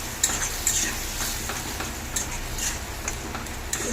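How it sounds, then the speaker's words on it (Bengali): Fried panch phoron spices being stirred into a sweet-sour carambola dish in a hot pan, with a loud continuous sizzle broken by soft rhythmic scraping strokes of a spoon, close and steady, with no talking. "আমি যে ভেজে রেখেছিলাম ওই পাঁচফোড়নগুলো আমি এখন দিয়ে দিলাম।"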